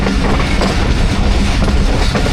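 A train on the Mirpur Khas line in Pakistan rolls past very close, a loud dense roar of wheels and carriages with a constant clattering rumble and no talk.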